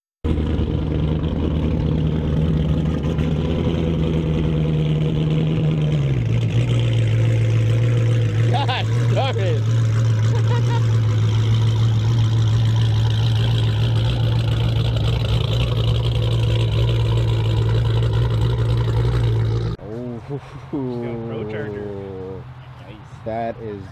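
A rough, loping 392 Hemi engine with an aggressive cam idles steadily and loudly for about twenty seconds, its pitch dropping slightly partway, with voices briefly talking near the end.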